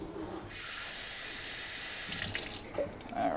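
Water runs from a kitchen tap into a container while preparing Nigerian moin moin, a steady close hiss for about two seconds, then cuts off, followed by faint clinks and handling noises.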